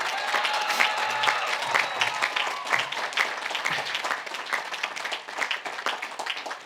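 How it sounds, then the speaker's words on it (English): Applause from a commencement audience at the Menlo 2021 graduation ceremony: dense, continuous clapping from a large crowd, fairly loud and sustained throughout. "Can you all join me in one more round of applause for both Cosette and for Ian"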